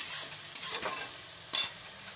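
Onions and spices sautéing in a pan while being stirred, giving short bursts of bright sizzle and scraping, close and moderately loud, with quieter gaps between strokes.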